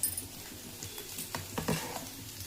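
Ginger garlic paste goes into a hot pan and sizzles softly, with a few scraping stirs and light patters close by, fairly faint.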